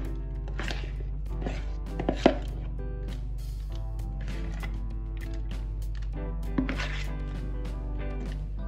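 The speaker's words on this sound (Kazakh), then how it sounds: "Мен үстіне әсемдеу үшін алманы осылай турап сап аламыз." A knife slicing apples on a board to decorate an apple charlotte pie, a series of crisp cuts with soft scraping between them and a steady low hum underneath, no talk.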